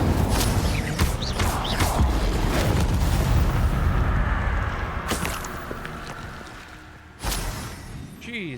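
An Incendio fire spell cast in Hogwarts Legacy, a loud whooshing magical blast with rumbling booms, followed by quieter spell effects and a sharp crack near the end.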